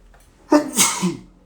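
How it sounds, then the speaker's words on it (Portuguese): One loud sneeze bursts out close by, a quick sharp intake then an explosive release and a short trailing tail, with no talk around it. "Vou pagar mico aqui espirrando."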